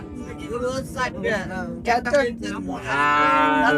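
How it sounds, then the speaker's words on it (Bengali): Cattle at a busy rural cattle market moo loudly in several drawn-out calls, the last one long and sustained, amid general crowd noise and nearby voices. "আমরা এখানে কিছু ছোট ছোট সার গরু দেখতে পাচ্ছি"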